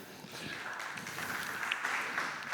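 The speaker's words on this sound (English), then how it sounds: "a short round of applause for the technicians for helping me out here" Conference audience giving technicians a short round of applause, quiet, distant clapping from a hall crowd that stays low and even.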